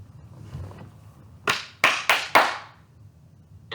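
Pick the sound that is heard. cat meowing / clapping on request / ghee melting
clapping on request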